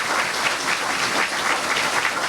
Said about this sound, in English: Please, if I can have a warm applause for them